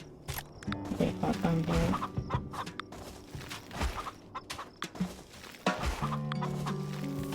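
Chickens in Farm Together 2 cluck and squawk in a busy, overlapping stream close by, with rhythmic clucks and a few sharper calls throughout, alongside light footstep-like taps.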